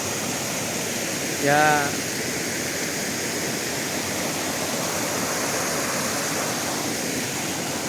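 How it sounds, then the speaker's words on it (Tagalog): Strong river current rushing at its spring source, the headwaters of a river at a resort in Tanay, Rizal; a steady broadband roar of flowing water throughout, with a brief voice and a short chirp near the start. "Ang lakas ng agos niya pero putol siya"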